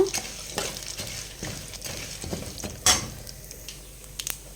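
Mustard seeds and lentils fry and crackle in hot oil for a bottle gourd and drumstick curry, giving a steady close sizzle with scattered pops, a sharp crackle burst near the end and light stirring clinks.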